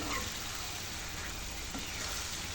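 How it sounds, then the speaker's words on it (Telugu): Egg and tomato curry boils in a pan with water added, a steady, faint, even bubbling hiss that continues without a break, no talking. "ఉడుకుతుంది కదండి"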